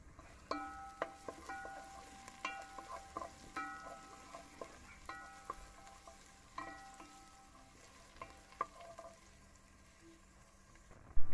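Ginger, thyme and pimento seeds fry in a pan with a quiet, steady sizzle, broken by a series of sharp utensil clicks and scraping stir strokes at irregular intervals; no voices.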